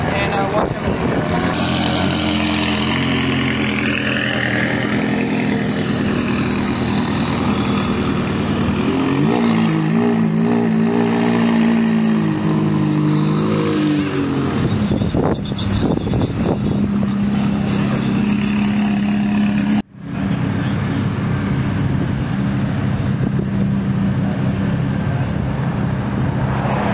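Supercars pulling away from a car club meetup, engines revving and droning loudly and continuously, with a brief cut near the end and talk mixed in.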